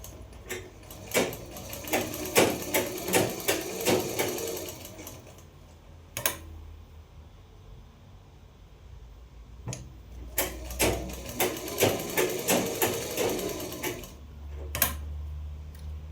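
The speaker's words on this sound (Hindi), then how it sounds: "जो एक्स्ट्रा फैब्रिक है इसको फोल्ड करके इसके साथ में सिल देंगे।" A sewing machine stitches the folded fabric edge of a kaftan: close, rapid mechanical ticking runs in several bursts with short quiet pauses and a low motor hum between them.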